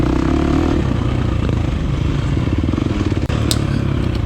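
A 2023 KTM 350 XC-F dirt bike rides loud and close through a hare scramble race course, its engine droning steadily with rapid pulsing and a brief dip near the end, with no voices.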